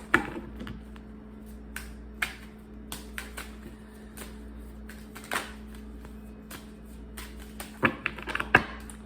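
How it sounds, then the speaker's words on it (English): Tarot cards shuffled by hand in a quiet room, a series of short sharp riffling snaps and taps spaced irregularly, with a quicker flurry near the end over a low steady hum. "All right, 3 major shuffles to clarify this 8 of Cups."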